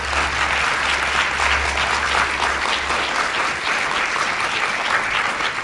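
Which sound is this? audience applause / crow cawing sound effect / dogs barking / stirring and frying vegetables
audience applause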